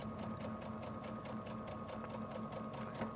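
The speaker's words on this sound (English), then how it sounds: "Your sewing machine will install zippers too" A home sewing machine stitches a zipper into a gingerbread man pillow, its needle hammering out a steady, fast mechanical rhythm that runs loud and continuous through the whole stretch, alone without talk.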